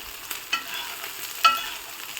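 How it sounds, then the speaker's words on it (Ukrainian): Eggplant fries over high heat in a cast-iron pan, giving a soft steady sizzle broken by a couple of sharp scraping stirs, close and fairly quiet with no talking. "Періодично перемішуємо наші баклажани. Якщо смажите на великому вогні, як я, то їх треба перевертати почастіше,"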